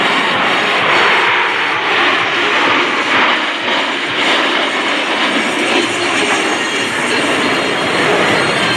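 US Navy Blue Angels jets pass overhead in Delta formation at the NAS Oceana air show, a loud, steady, broadband jet roar that fills the whole stretch without letting up.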